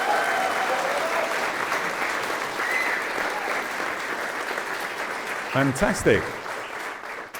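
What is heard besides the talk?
live podcast audience applause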